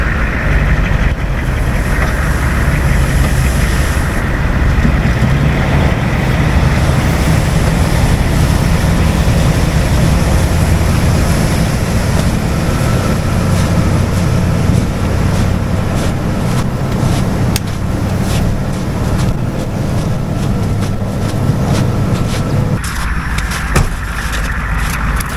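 A vehicle's engine drones steadily and loudly while towing a car in neutral up a mountain road to rescue stranded people, the rumble continuous and close with no voices heard.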